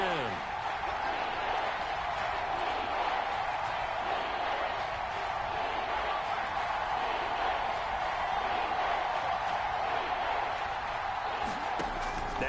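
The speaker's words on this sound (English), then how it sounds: "Crowd getting in it a bit already." Simulated stadium crowd noise from an NFL football video game on PS4, a steady wash of distant murmuring and cheering that continues under a play-by-play commentator's voice for the whole stretch.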